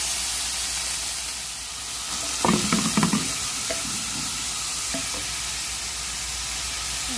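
String beans for adobong sitaw cooking in a pan, with a steady soft sizzle and a short burst of clattering stirring near the middle, then quieter frying; no talking.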